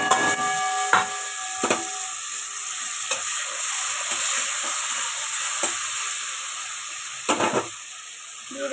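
Chopped onion fries in hot oil in a wok with a loud, continuous hiss, broken by several sharp scrapes and clanks of stirring, close up and with no talking.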